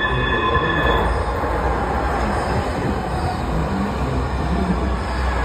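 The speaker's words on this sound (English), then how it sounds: "This is a Muni train coming in." A westbound one-car San Francisco Muni metro train pulls into a station, its loud steady rumble and rail noise filling the space, with a thin wheel squeal early on.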